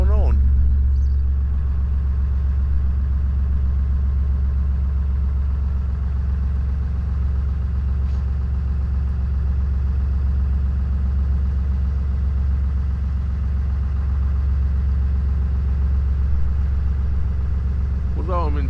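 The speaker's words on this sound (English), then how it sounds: "The engine noise is quite loud today. That's because it's charging the batteries" A canal narrowboat engine idling at tickover while charging its batteries, a loud, steady low rumble that runs unbroken throughout, with faint brief sounds above it.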